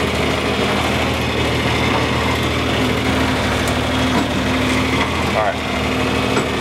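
A John Deere 4020 tractor cultivating corn runs with a loud, steady engine drone that holds unchanged throughout, close by, while a voice speaks over it.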